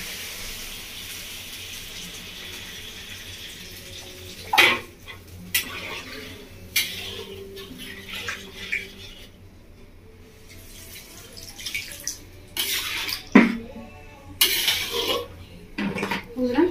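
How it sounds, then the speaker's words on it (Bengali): Water goes into a pan of spiced fish curry with ridge gourd, mixed with clanks of metal pans and utensils and splashing, pouring bursts, loud and close in a home kitchen. "এবার দিয়ে দিচ্ছি আমি জল।"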